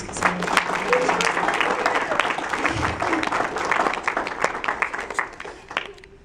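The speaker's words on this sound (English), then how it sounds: "Give them a round of applause." A church audience applauds after a skit, a crowd clapping at moderate volume with sharp individual claps standing out, scattered voices mixed in, gradually thinning toward the end.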